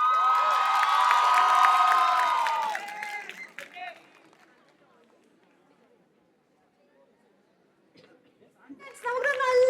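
A college crowd at a movie teaser launch cheers loudly to welcome actress Bhavana. The noisy burst of shouting and cheering lasts about three seconds, then fades to near silence before another short burst of voices at the end.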